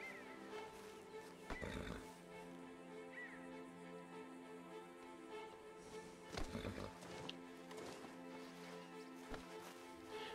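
A horse whinnies in a Western-themed video game soundscape, with a couple of loud neighs standing out over steady background music and ambience.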